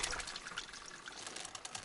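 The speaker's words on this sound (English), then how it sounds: "pour water" Water pouring in the cozy video game Wanderstop, a soft continuous liquid trickle heard alone at low level, steady for its short length.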